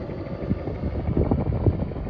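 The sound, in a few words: helicopter flying overhead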